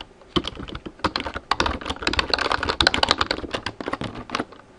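Rapid, continuous typing on a computer keyboard while a file is edited on a Linux desktop, with close, crisp key clicks in an irregular run and no speech.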